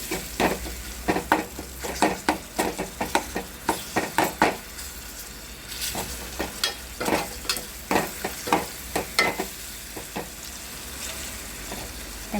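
Ridge gourd and tomato frying in a pan over heat, with a steady sizzle broken by repeated spoon-stirring scrapes and clacks in an uneven rhythm, close up and moderately loud, no voices.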